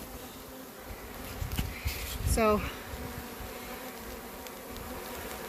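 Honeybees hum at an open beehive as a steady, close buzz with a few louder passes near the listener, under a single short spoken word.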